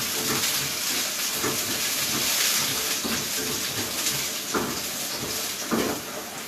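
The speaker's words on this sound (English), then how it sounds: "Now, can you hear the sizzle?" Carrots for a venison stir-fry sizzle steadily in a hot pan, giving an even hiss broken by a few soft clinks.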